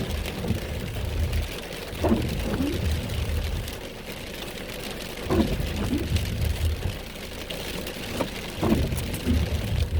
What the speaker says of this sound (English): The rain's starting to get heavier and heavier